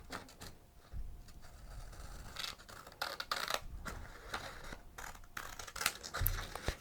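Scissors snip close to the ear through excess origami paper in a quiet ASMR setting, giving a run of soft, crisp cuts and scrapes at an uneven pace with brief pauses between them.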